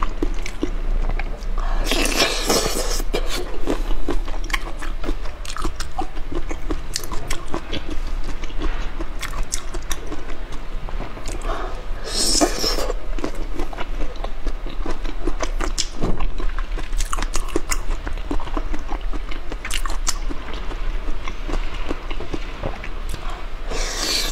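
Spicy skewered shrimp are chewed close to the mic with steady, wet crunching and biting that carries on throughout, with louder crunchy bites standing out now and then.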